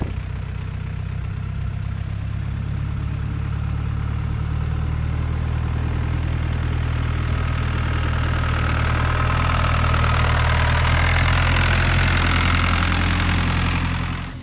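A tractor carrying apples at an apple farm idles steadily with a deep, throbbing rumble, close and loud, running continuously without voices.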